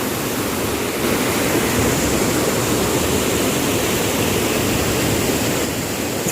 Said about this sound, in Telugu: వాటర్ ఎంత ఫోర్స్గా వెళ్తున్నాయో, ఎంత ఫాస్ట్గా వెళ్తున్నాయి చూడండి